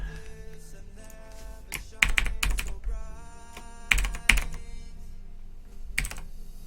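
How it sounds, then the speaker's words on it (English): Mechanical computer keyboard with tall keys, typed in irregular bursts of crisp clicks and clacks at close range, with louder heavy keystrokes clustered at intervals and faint background tones. "What keyboard are you using? Sounds mechanical."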